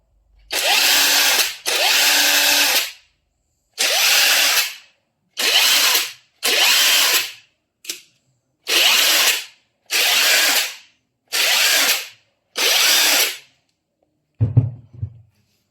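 A cordless impact drill on mode 3, speed 3, with a full IFASEN battery, whirs in about ten short, loud bursts separated by brief pauses, followed by a faint clunk at the end.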